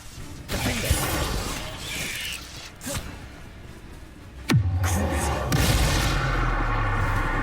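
Bombarda explosion spells from Hogwarts Legacy crash and shatter during a fight, with sharp debris cracks and a sudden loud blast halfway through, followed by a rumbling low tail.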